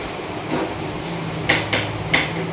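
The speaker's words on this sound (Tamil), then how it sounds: "இப்போ பாருங்க கஷ்டப்பட்டு தேங்காய் உடைச்சி எடுத்து தரேன்" Coconut being broken open in a kitchen, three sharp hard knocks in quick succession after a softer tap, close and alone.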